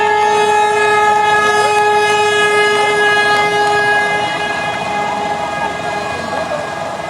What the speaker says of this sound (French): Tracteur qui klaxonne.